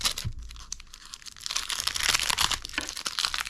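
Plastic wrapping crinkles and tears as a photo album package ordered from Temu is opened, with crackly rustling starting softly and then turning louder and denser in the second half.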